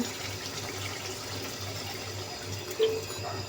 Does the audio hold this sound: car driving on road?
no